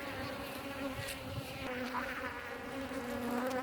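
Honey bees buzz steadily around an open hive during an inspection, a dense, continuous drone close by with a few individual bees passing nearer.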